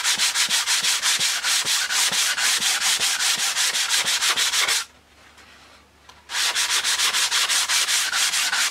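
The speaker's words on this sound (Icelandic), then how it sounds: "nú get ég nota þetta til þess að pússa" A smithed piece is sanded or polished with a pad in rapid, even back-and-forth rasping strokes, loud and close, broken by a pause of about a second and a half before the scrubbing resumes.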